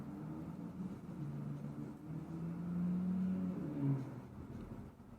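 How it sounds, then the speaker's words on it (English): Road traffic hums in the distance as cars pass outside, a low steady rumble that swells briefly midway. "sorry if you guys can hear the cars in the background"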